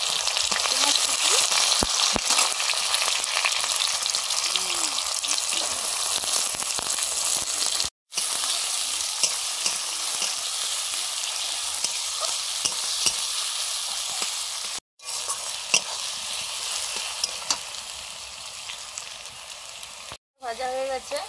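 Chopped onions frying in oil with whole cumin and chilli, a loud continuous sizzle close up with occasional stirring scrapes, broken by a few brief cuts to silence.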